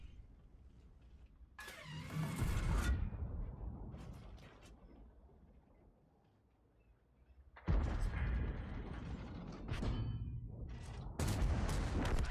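Loud bursts of heavy cannon fire and explosions in World of Tanks from a Minotauro tank destroyer, two big blasts separated by a lull of rumbling engine noise, ending with another sharp burst.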